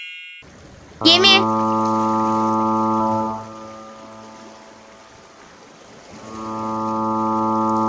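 A deep ship horn blasts twice, long and loud, with a sharp whistle-like sweep at the start and a quieter gap between the blasts.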